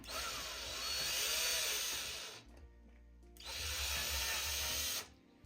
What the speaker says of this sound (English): So I just put my drill right in the center, being very careful